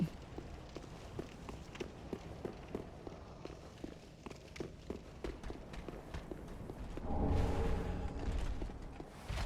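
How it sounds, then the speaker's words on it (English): Footsteps in the video game Dark Souls 3, a steady run of soft, regular thuds close by, with a louder whooshing swell near the end. "I think I heard some footsteps"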